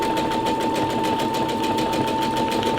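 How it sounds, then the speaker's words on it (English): A Brother SE625 sewing machine stitching a design stitch through a single layer of leather with a needle not made for heavy material, a steady close mechanical whir with a fast rhythmic needle chatter. "now let's start sewing"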